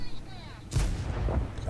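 Tank gun firing standard ammunition in World of Tanks: one sharp, heavy boom with a rumbling tail after a quieter stretch of game sounds.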